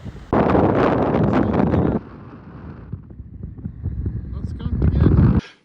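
Strong wind buffets the microphone on the Iceland coast in loud roaring gusts, easing briefly in the middle before surging again, with a voice speaking under the noise.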